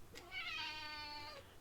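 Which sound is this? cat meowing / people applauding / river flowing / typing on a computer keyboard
cat meowing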